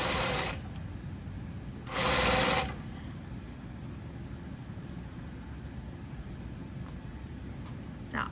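A sewing machine stitches a shirt sleeve along its curve in two short loud bursts, the second slightly longer, with a low steady hum between them.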